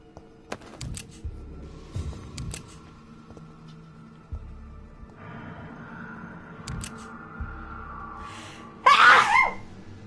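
A single sharp sneeze near the end, loud and close, following quiet room sounds and scattered clicks and thumps.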